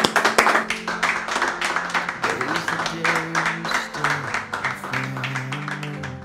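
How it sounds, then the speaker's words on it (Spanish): An audience applauds a man in a rhythmic burst of hand claps, loud and close, with music and voices running underneath. "Yo les pido un aplauso para este señor"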